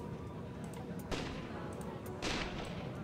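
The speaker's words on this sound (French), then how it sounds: "Ouais, ici il y a des coups de feu." Two sharp gunshots from the theme-park building game Planet Coaster, spaced about a second apart, each a quick bright crack over a steady low background hum.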